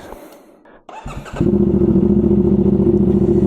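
A CFMOTO 450SS sport motorcycle engine cranks and catches on a cold start, then settles into a loud, steady idle close by with no talking.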